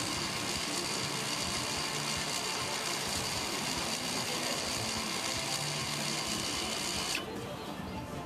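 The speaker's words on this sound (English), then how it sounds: "The EPB module will close up the parking brake mechanism." An electro-mechanical parking brake module runs its motor to close the rear brake mechanism, giving a steady, loud mechanical whir that continues with no break for about seven seconds and then cuts off sharply.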